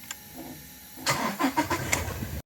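A Toyota Innova engine cranks briefly and catches, then revs in a few uneven bursts before settling, close by and fairly loud.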